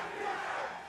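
Brief burst of a big esports arena crowd roaring during a Valorant Masters match, Sentinels versus Team Heretics, a dense, steady wall of shouting voices with no distinct speech.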